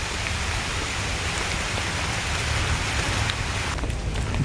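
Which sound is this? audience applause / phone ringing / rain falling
rain falling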